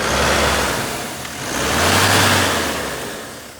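A Mahindra Scorpio Classic SUV's diesel engine revs once up close, its roar swelling and then falling back to a rough idle.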